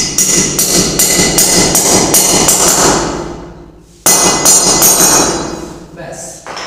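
A hammer strikes a wall repeatedly while a bracket for a 12-line tile laser level is mounted, sharp evenly spaced blows in two close bursts separated by a brief pause.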